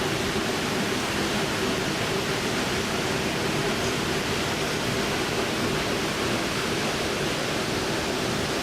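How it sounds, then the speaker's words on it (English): A jungle waterfall near San Jose del Guaviare, Colombia, roars as a steady, broadband rush of falling water, loud and unchanging with no voices or other sounds over it. "This was the last waterfall"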